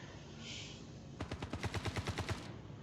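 Rapid automatic gunfire from a shooting video game, a burst of about a dozen evenly spaced shots lasting over a second, loud and close, following a quieter stretch of game ambience.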